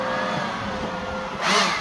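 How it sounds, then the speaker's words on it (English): A Ryobi leaf blower runs outdoors with a loud, steady, broadband whooshing drone that swells briefly near the end. No one speaks. "here I have my Ryobi blower"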